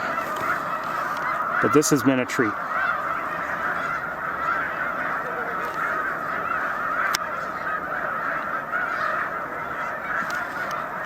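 Snow geese on Cayuga Lake give a short burst of loud honking near the start, followed by quiet outdoor ambience and a brief spoken remark.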